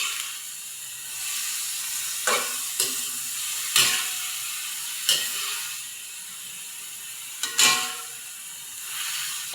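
Food stirred in a pan with patis (fish sauce) for a simple home-cooked Filipino dish, a steady sizzle broken by several scraping, clinking strokes of the spatula, close and moderately loud with no talking.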